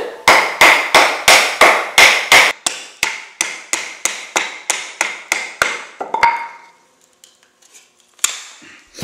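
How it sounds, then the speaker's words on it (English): A baton hammers repeatedly on the spine of a Mora knife splitting wood, giving about fifteen sharp, close, evenly paced knocks that weaken toward the end, followed by a creak and one last strike. "and I'm going to split this wood."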